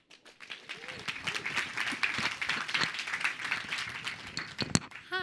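A room full of people at the Women Startup Challenge in New York City claps for a startup presenter, a dense, lively burst of many hands that swells quickly and holds steady, with no talking.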